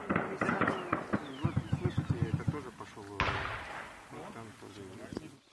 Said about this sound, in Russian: Под выстрелы снайпера и автоматического гранатомета покидаем позицию.